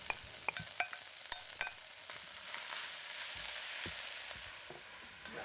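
Onion and turkey meat fry in a hot cast iron pot with a steady, close sizzle, while a few sharp clinks and scrapes of stirring come through near the start.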